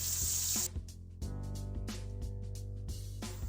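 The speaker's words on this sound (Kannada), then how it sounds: "ಸೊ ಎಗ್ಸ್ ಫ್ರೈ ಆಯಿತು." Six eggs frying lightly in oil in a home kitchen, a steady close sizzle with brief clattering breaks and soft knocks of a utensil against the pan.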